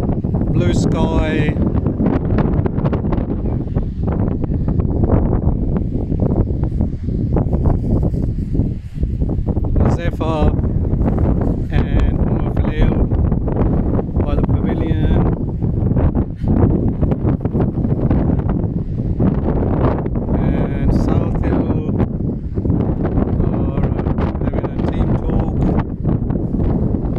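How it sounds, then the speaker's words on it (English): Steady, loud gusting wind buffets the microphone at Southill Park cricket ground on a hot, breezy summer day, a continuous roar with no clear pauses and speech heard underneath it. "And hot, breezy day,"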